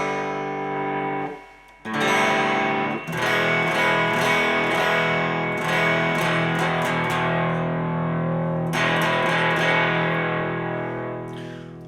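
Electric guitar plays a chart-rock riff in standard tuning without a capo, through an amplifier with a little gain and some reverb, with sustained chords ringing loud and steady for most of the passage.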